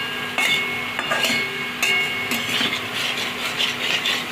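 A utensil stirs fish curry (gurjali fish oil jhal) in a pan after hot water is added, with scattered metallic scrapes and clinks over a steady sizzling bubble.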